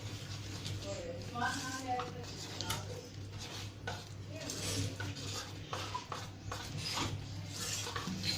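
Chocolate cake batter, softened with a little warm water, being stirred in a bowl, giving steady scraping and clinking of a spoon against the dish. A voice talks over the mixing throughout.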